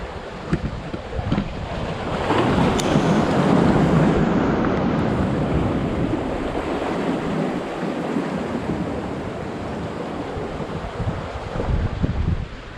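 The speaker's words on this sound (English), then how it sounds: "There's some nice big swells coming in." Big ocean swells roll in and break against coastal rocks, a loud sustained roar of surf with gusting wind buffeting the microphone throughout.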